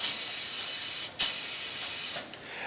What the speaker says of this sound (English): power flush the fluid passageway completely with the power pistol for 3 to 5 seconds